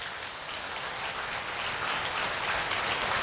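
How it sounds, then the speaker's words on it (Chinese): Sustained, dense applause from a large rally audience in Malaysia, a steady roar of many hands clapping at even loudness throughout with no voices rising above it. "大家明白就麻烦拍手"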